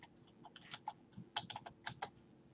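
Faint, close typing on a computer keyboard, a loose run of irregular key clicks over about two seconds with no talking.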